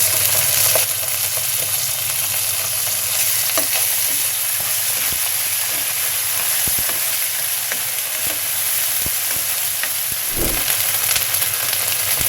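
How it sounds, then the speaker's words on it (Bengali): Steady loud sizzle of onions frying in a pan as ginger paste goes in, with occasional stirring scrapes over the continuous hiss, from a Bengali boal fish curry being cooked. "পেঁয়াজ ভাজি হয়ে গেছে। এখন আমি আদা বাটা দিব।"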